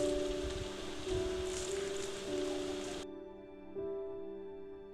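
Rain falls in a steady hiss on surfaces and leaves, fairly quiet, with a low tonal hum underneath, then the rain sound cuts off abruptly partway through, leaving only the faint hum.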